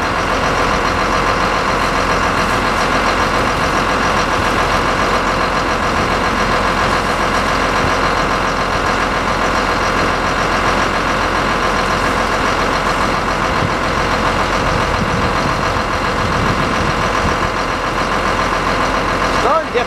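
A truck motor runs steadily outdoors, a loud, constant droning rumble with no change in pace, filling the whole stretch close by.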